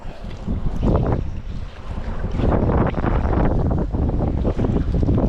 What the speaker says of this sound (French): Le vent du sud qui se lève.